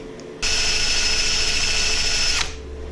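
A power drill bores into a broken bolt on a Nissan Z24 engine block, a steady loud high whine starting abruptly and running about two seconds before cutting off, with no talk.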